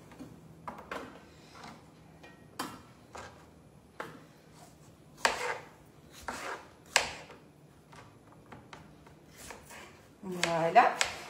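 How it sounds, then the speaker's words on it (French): Knife chopping potatoes coarsely on a board, irregular close thuds and cuts spaced a second or two apart, with someone talking between the cuts and a louder rustling burst at the end. "1 kg de pommes de terre, je les coupe grossièrement"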